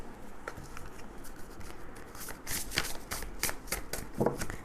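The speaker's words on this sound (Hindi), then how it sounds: "एक डेक से और कार्ड्स निकाल लो, फिर रीडिंग शुरू करते हैं।" Tarot cards being shuffled and drawn from a deck, a steady papery riffle with crisp flicks of cards growing louder toward the end, heard alone without any talk.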